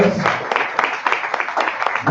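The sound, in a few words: audience applause at an energy event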